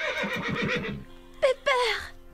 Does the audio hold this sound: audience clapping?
no